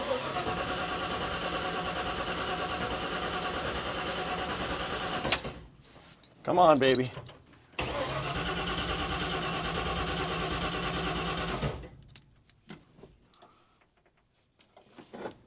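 A 1959 Ford F100 truck engine cranks and fires, running loud and rough with a brief stutter before catching again, then falling silent; a voice speaks briefly near the end.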